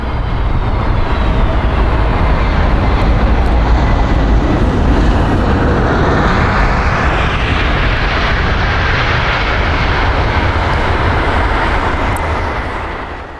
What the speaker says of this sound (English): This Airbus A321neo departed from London Heathrow but was unable to close its landing gear doors